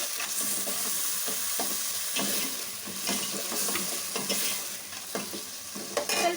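Tomato masala for masala idli stirred in a hot pan, a steady sizzle and fry with repeated scraping strokes of a spatula, close and continuous, no voices.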